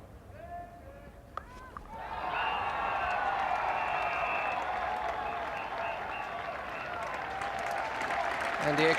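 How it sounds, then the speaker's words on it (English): Crowd applause at a cricket match at Lord's swells after a couple of seconds into sustained clapping and cheering from a large stadium audience, building steadily louder toward the end. "And the extra applause now for Gordon Grenidge, reaching 50 out of a total of 77."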